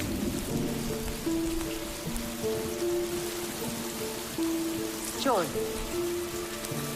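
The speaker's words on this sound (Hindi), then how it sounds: "तुम इसलिए बारिश की बूंदें पीती हो?" Steady rain pours down with a dense hiss of raindrops, loud and continuous, mixed with tonal background music throughout the clip.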